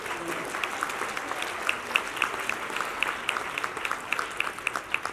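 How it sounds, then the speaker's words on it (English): Moderate audience applause at a children's music education keynote, a fairly close scatter of individual claps forming a steady patter. "Give yourselves a round of applause."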